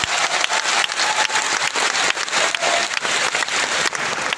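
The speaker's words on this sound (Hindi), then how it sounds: "अरे भाई, इसके लिए ताली भी बजा सकते हो" Audience applause at a business growth seminar, dense steady clapping from a large crowd for about four seconds, loud and continuous with no talk.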